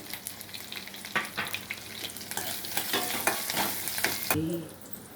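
Curry leaves and ground pepper sizzle in a hot pan while a utensil stirs and scrapes in close bursts, with the frying growing louder toward the end and no one speaking.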